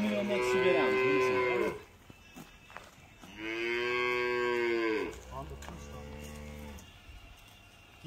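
Simmental cow on a dairy farm lowing loudly in two long, drawn-out moos, followed by a lower, quieter third call, with no other sounds between the calls.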